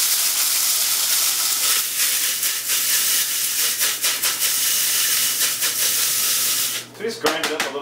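An electric coffee grinder whirs through coffee beans for Turkish coffee, a loud steady grinding hiss broken by short pulses and stops toward the end, with a voice speaking briefly over it.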